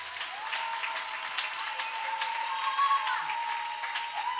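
A church congregation at a Sunday service applauds in a steady, moderately loud wash of clapping, with a sustained ringing tone running underneath throughout.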